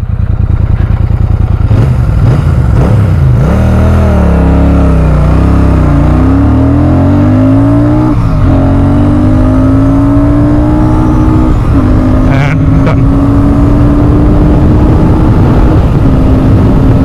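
A Royal Enfield Super Meteor 650 motorcycle engine revs up hard and climbs steadily through the gears during a 0 to 100 run, loud and close, with rising pitch and brief shifts between surges.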